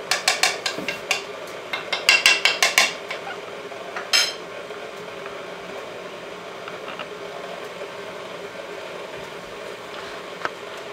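A stand mixer runs on slow speed, folding dry ingredients into chocolate cookie dough: a steady, even motor drone, with a burst of clinking from the bowl and utensils near the start.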